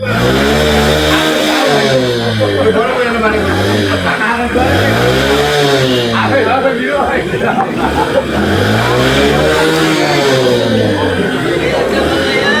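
A motorcycle engine runs close by and revs repeatedly in rising and falling surges, loud and continuous throughout.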